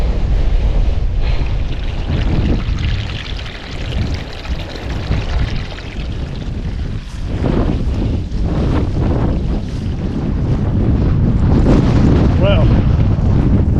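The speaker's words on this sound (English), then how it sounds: "The weather has come in again, even more windy and very wet" Strong wind buffets the microphone on an exposed winter hilltop in the Peak District, roaring continuously and loudly with gusty surges throughout, while a voice speaks briefly near the end.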